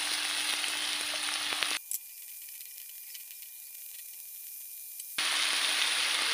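Salted fish (ikan peda) stir-frying with corn and green tomato, a steady close sizzle that cuts out for a few seconds to near silence, then returns just as loud.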